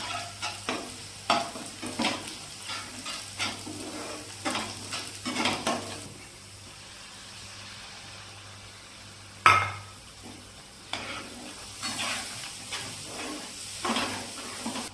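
Paneer butter masala is stirred in a pan with ground whole garam masala, giving repeated scraping strokes over a soft sizzle, with a pause partway through and a sharper clink.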